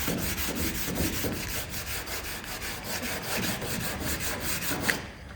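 Sanding block rubbed back and forth over a damaged truck body panel, a continuous rhythmic scraping of roughly a dozen quick strokes, close and steady, with a small knock near the end.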